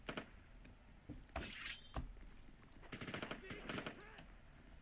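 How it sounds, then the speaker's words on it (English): A burst rifle fires in a Roblox shooter game, quick clusters of faint, sharp shots crackling in short volleys over a few seconds, with a voice talking alongside. "Burst rifle."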